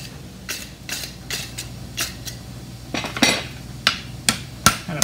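A hammer draws and scoops hot metal in rough forging, striking in a slow, irregular series of sharp ringing blows close by, growing a little louder toward the end.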